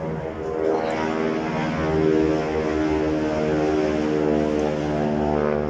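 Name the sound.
airplanes flying overhead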